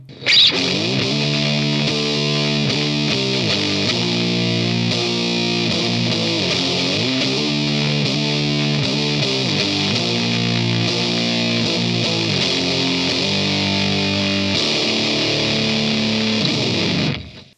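Heavily fuzzed electric guitar in drop D tuning, chugging riffs and sustained distorted chords played continuously and loud, with no voices.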